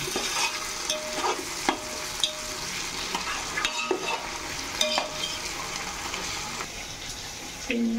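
Vegetables with tomato pieces and green chilies sizzle in a pan while a spoon stirs them, bringing periodic scraping knocks over the steady frying hiss.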